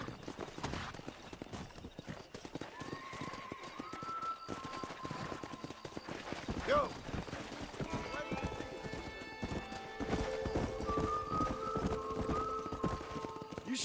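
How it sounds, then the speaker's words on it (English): Horses trot with steady clip-clop hoofbeats and neigh in the video game Red Dead Redemption, set against a continuous music bed and background sound, with no speech heard. "Let's see if we can't wrangle some horses."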